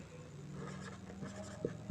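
A marker or chalk scratches across a classroom board in short strokes during a maths lesson. Faint room noise sits underneath, with a couple of small taps near the end.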